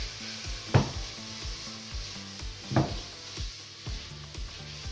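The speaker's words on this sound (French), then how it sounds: "c'est comme ça que je vais remuer de temps en temps jusqu'à ce que ce soit bien doré" Food frying in oil in a pot, a soft steady sizzle with a few scraping stir strokes and light knocks of the utensil against the pot, quiet and close with no talk.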